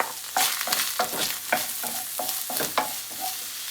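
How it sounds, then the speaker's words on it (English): Sliced onion hits hot pan juices during batch cooking and sizzles steadily, with repeated scraping stir strokes on the pan at a fairly even rhythm, close and moderately loud with no talking. "we've now got the pan juices in here, and I'm going to add 1 sliced onion"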